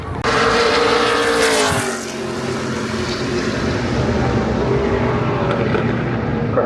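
NASCAR race cars roar past at Pocono Raceway, a loud engine whine that sweeps by and then fades into a sustained roar of the pack running on the track.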